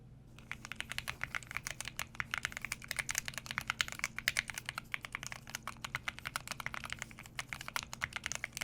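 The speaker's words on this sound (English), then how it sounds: "you may be thinking, this is just the same keyboard. But it's actually an entirely new keyboard" Fast, continuous typing on a computer keyboard as an ASMR trigger, dense crisp key clicks in a close, steady rhythm over a faint low hum.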